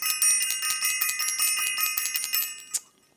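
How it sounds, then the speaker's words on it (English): A bell is rung rapidly and repeatedly, a bright metallic trill with a steady pulsing rhythm close to the microphone, ending in one final strike that rings out and fades. "Let me ring that bell."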